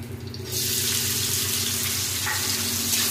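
Green chili, chopped onion and garlic hit hot oil for fried red amaranth greens, a quiet moment giving way to a loud, steady sizzling hiss with a low hum beneath it.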